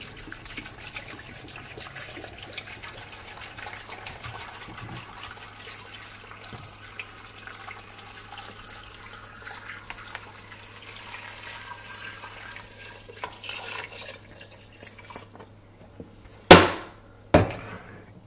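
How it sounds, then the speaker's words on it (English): Water pours steadily into a big cooking pot while making corn wine, a continuous rushing splash that runs for several seconds before ending in a couple of sharp clanks. "Now in our big pot, we want to go ahead and add in the rest of our water."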